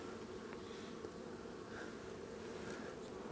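Honeybees hum steadily in a continuous, even drone during a hive inspection as the bees bring in light-colored pollen, a soft, close buzz with no voices.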